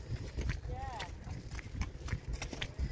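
Hooves clip-clop steadily in an uneven rhythm as a horse is ridden out on a hack, with rustling outdoor background noise and a voice briefly in the mix.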